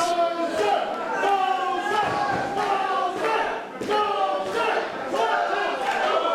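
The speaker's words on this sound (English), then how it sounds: "I heard this crowd chanting Dozer" Crowd at an indoor independent wrestling match chanting in a steady rhythmic cadence, loud and close, with voices and thuds mixed in throughout.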